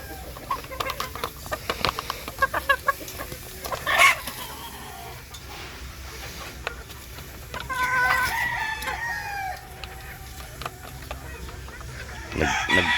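Chickens cluck in scattered bursts nearby while a rooster crows, with rustling and pecking sounds between the calls.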